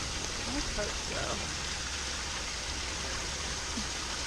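Water from an overflowing pond rushing out through a pipe, a steady broadband hiss and gurgle that holds constant throughout, with a faint voice murmuring underneath.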